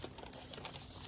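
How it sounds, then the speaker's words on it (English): Ripe delphinium seeds drop from dry pods in the garden, making a faint, soft patter of tiny ticks that lasts about a second. "You can hear the seed already falling."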